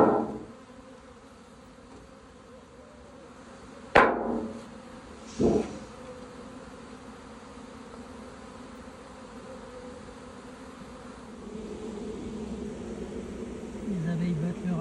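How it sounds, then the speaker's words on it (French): A steady, low buzzing hum of a honeybee swarm, sustained throughout, interrupted by a couple of sharp knocks. "Les abeilles battent le rappel."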